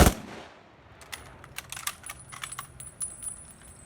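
Firing squad gunfire: a loud opening blast followed by a scatter of sharp, crackling shots spread over a few seconds, fairly distant, with no voices.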